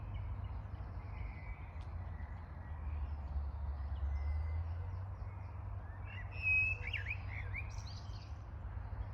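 Birds chirp and sing in the distance at Tilcon Lake, Gateshead, over a steady low outdoor rumble, with a brighter burst of calls partway through.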